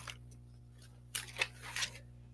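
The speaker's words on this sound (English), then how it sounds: "Someone's shuffling papers and making lots of noise" Papers are shuffled at a tabletop role-playing game session, with a few soft crinkly rustles and bursts at close range over a low steady hum.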